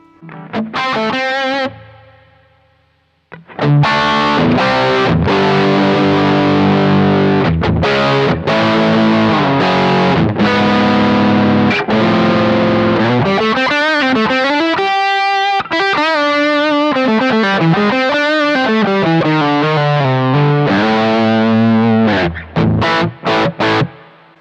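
Heavily overdriven electric guitar through a BluGuitar AMP1 cranked all the way rings out loud and saturated, chords and bending notes sustaining with a thick, gritty crunch and brief pauses between phrases.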